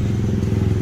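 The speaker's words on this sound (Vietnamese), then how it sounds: "Xe đó là xe túc túc á." Tuk-tuk engine on a street in Thailand, a close, steady low rumble with a fast put-putting, motorcycle-like beat and no pauses.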